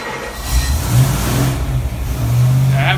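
A Ford 331 stroker engine with a GT40 ported lower and Explorer upper cast intake manifold runs on a dyno, a steady mid-pitched rumble that swells and settles across the stretch, loud and close with no talk.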